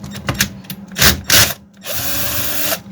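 Close, loud bursts of a cordless screwdriver driving screws, several short whirring pulses followed by a longer sustained run, with no talk.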